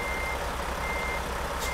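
A Mack CHU613 truck reverses in the Euro Truck Simulator 2 video game, with a steady, repeating backup alarm beeping loudly over a constant low engine rumble, with no talking.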